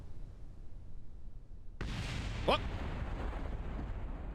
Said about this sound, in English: that explosion you heard was just those solid boosters hitting the ground